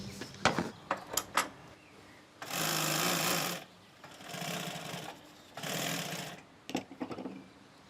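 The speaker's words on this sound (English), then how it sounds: "I can get sewing." A sewing machine stitches fabric during a repair-shop restoration, running in three steady bursts of about a second each. Short clicks and handling knocks fall between the runs, fairly close and moderately loud, with no talk.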